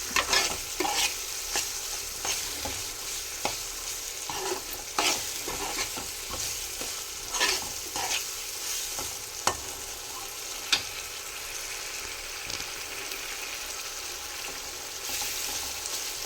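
Prawns cooking in a pan with a steady, close hiss of frying and scattered sharp crackles and pops over about sixteen seconds, with no talking.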